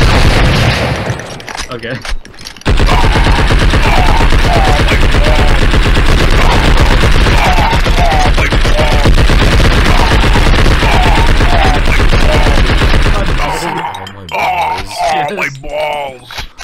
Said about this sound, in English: Hey, stop shooting your gun at me.